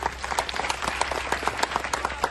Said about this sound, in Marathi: अशा या अमय वाघसाठी आपण टाळ्या वाजवायला पाहिजे